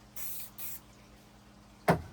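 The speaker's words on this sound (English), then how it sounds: "I'm going to spray a tiny bit of mold release." Two short hissing bursts of mold release sprayed from a can onto a soft bait mold, followed by a brief knock of something being set down, in a quiet workshop.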